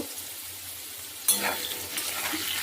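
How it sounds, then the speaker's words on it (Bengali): Potatoes fry in a pan during preparation of a light summer fish curry, a steady low sizzle that jumps into a louder, brighter crackle partway through and then holds a busy spitting hiss, close and without talk. "এই 2 মিনিট করে একটু আলুটাকে নরম করে ভেজে নিতে হবে"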